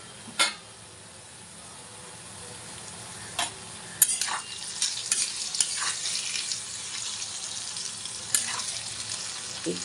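Banana flower with salt and turmeric stirred in a frying pan, a faint low sizzle broken by a few scraping strokes and clinks of the spatula, quiet and close, no talking.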